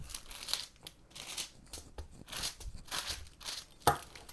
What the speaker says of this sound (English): I'm just using a pizza cutter here.